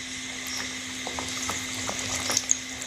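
Puri dough frying in hot oil, a steady soft bubbling hiss with faint crackles near at hand, running on without talk.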